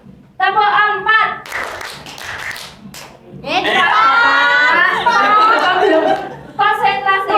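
Schoolchildren in an Indonesian class clap along to a counted chant, scattered claps and chatter giving way to a long burst of massed voices and laughter, then more chanting; loud and near.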